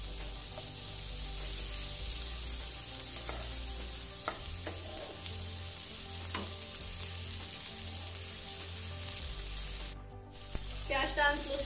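Onions frying in a pan until translucent, a steady low sizzle with a few scattered stirring scrapes and a brief clatter near the end.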